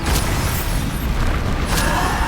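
Bombarda explosion spells going off in Hogwarts Legacy on Xbox Series X, a loud, dense rumbling boom that fills the whole moment, with sharper bursts cracking over it.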